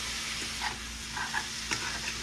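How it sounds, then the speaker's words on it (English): Seasoning blend being stirred into a dish of chili cheese fries, soft scraping and mixing scuffs repeating every half second or so over a faint steady hiss, fairly quiet, with no voices. "Put it in our blend seasoning, and then we're gonna mix it."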